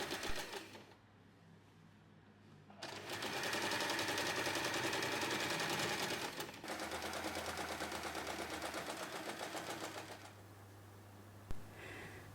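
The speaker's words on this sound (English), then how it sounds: "we'll sew all around the top edge" A sewing machine stitches around the top edge of a fabric tote bag in a rapid, steady mechanical whir of needle strokes, running in two long bursts with brief pauses, close and clear.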